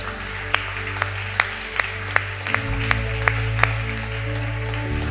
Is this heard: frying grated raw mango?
no